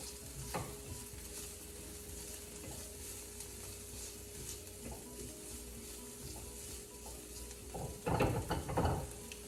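Seasoned flank steak with a pinch of pepper and salt, tossed and stirred in a pan, giving faint continuous scraping and sizzling with a few louder clatters near the end.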